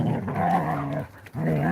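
Dogs growl in a low, rumbling snarl that runs almost continuously and breaks briefly in the middle. The sound is close and moderately loud, with no talking.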